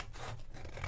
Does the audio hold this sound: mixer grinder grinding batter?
no